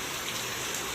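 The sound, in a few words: heavy rain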